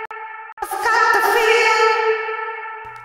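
Vocal passed through the Baby Audio Crystalline reverb plugin: a short sung note blooms into a bright, shimmering tail that lingers and slowly fades over a few seconds, heard alone without speech.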